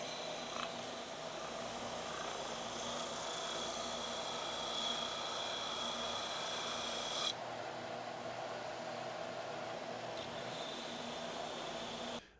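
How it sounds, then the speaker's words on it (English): A spindle sander whirs steadily as it smooths saw blade marks and refines a curve on a wooden bandsaw box, a loud continuous drone that cuts off abruptly partway through. "over on the spindle sander, I'm going to smooth out all the saw blade marks and refine this curve"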